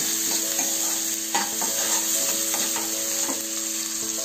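Vali beans sautéing in hot oil, a steady sizzle with light stirring taps and scrapes throughout.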